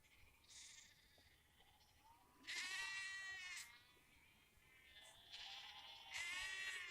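Restless sheep bleat in a field on the north coast, several wavering calls in a row, one after another at moderate distance, with no one speaking.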